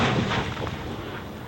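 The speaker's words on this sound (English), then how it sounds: "did a series firing off all kinds of things, primacord and plastique explosive and black powder" A mortar firing a paint can projectile with black powder and explosive charges: a loud, broad booming blast that fills the whole clip and rolls off slowly, with no voices.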